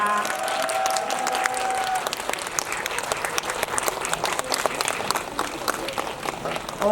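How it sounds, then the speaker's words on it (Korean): Theater audience at a special preview screening and mini talk for Weak Hero applauding as the guests leave the stage, a loud sustained round of clapping with some voices mixed in. "이쪽으로 퇴장하시는 동안 큰 박수로 보내드리도록 하겠습니다"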